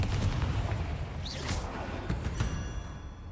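Confringo fire spell exploding in Hogwarts Legacy combat: a booming, rumbling blast with crackling bursts and a brief rising whistle, fading over about three seconds, loud and close with no talking.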